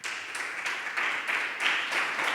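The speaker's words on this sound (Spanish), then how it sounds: "Dale un fuerte aplauso al Señor." Church congregation applauding, a dense even wash of many hands clapping together with steady pulses, moderately distant and continuous throughout with no clear voices on top.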